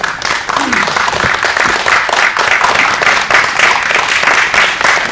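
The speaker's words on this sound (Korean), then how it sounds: "큰 박수로 아주 부탁드리겠습니다" Loud, dense applause welcoming film director Lee Sang-il at a press conference, continuous clapping from a crowd with a brief voice heard near the start.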